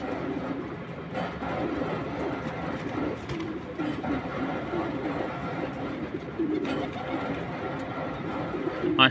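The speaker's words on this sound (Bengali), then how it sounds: "আমার বাসার খুব সুন্দর আরেকটা কবুতর" Pigeons in a home loft cooing amid a busy, continuous bed of bird calls and rustling, with a faint low rumble underneath and no clear speech.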